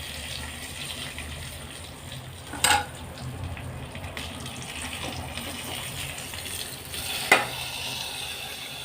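Curry leaves and chili powder fry in a pan, a continuous soft sizzle and bubbling with a couple of brief clinks or stirring knocks, heard fairly quietly and without speech.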